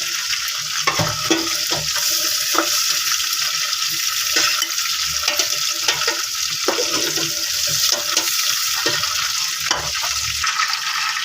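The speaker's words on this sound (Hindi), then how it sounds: "उसी ऑयल में हम प्याज ऐड कर रहे हैं" Onions frying in the same oil left from browning chicken for a shahi korma, a steady loud sizzle with scraping stirring strokes throughout, no talk.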